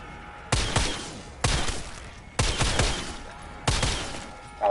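A gun fires in a first-person shooter video game: four heavy, sharp shots spaced about a second apart, each with a short ringing decay, close and loud with no talk.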